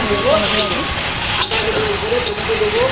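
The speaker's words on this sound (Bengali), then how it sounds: "পেঁয়াজ ভালো করে একদম ভাজাও হবে সমস্ত কিছু ভাজা হয়ে যাবে" Chopped onions fry with salt and spices for a spicy chicken dish, a loud close sizzle with stirring scrapes and light clinks, and a voice talks over parts of it.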